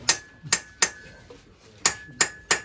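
Sharp metallic hammer blows on a 1973 Triumph TR6, about six strikes in an uneven rhythm with a short pause midway, close and ringing with a faint tone.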